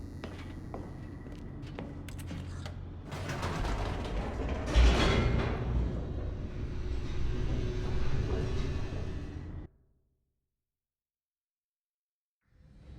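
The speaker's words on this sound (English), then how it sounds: "The elevator raced downward, plummeting towards an unknown fate" An elevator descends in The Stanley Parable with a steady mechanical rumble and creaking gear noise that swells louder partway through, then cuts off abruptly into silence.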